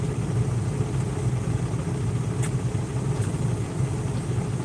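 A semi-truck tractor's diesel engine idles steadily, a loud, continuous low rumble that fills the whole stretch with no talk over it.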